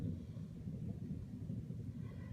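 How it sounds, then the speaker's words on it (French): Storm thunder coming in through an open window, a faint, continuous low rumble with no talk over it. "Alors là j'ai la fenêtre ouverte, il y a des orages hein, par chez moi là."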